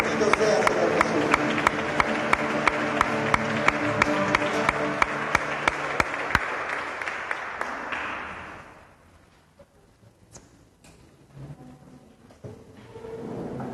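A church congregation claps loudly for about eight seconds at an evening worship service, sustained applause with sharp claps throughout, then fading to quiet with scattered faint sounds.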